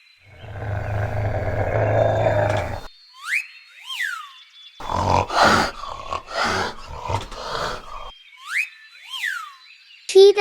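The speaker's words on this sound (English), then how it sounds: "cheetah," A cheetah calls with a long, low rasping growl, then a run of sharp growling bursts and rough snarls, fairly close, with faint chirping tones between them.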